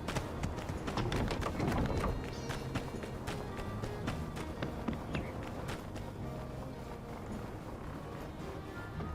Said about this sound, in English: sound effect of the horse running to fade out